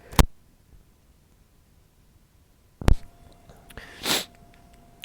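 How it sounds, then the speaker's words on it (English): A single close, sharp human sneeze bursts out near the end, preceded by a couple of brief clicks and soft breaths in an otherwise quiet room. "I gotta sneeze."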